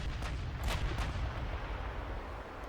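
Naval gunfire from battleships in the Ultimate Admiral Dreadnoughts game, a dense rumbling barrage with several sharp booms early on, then a continuous low roar, loud and without voices.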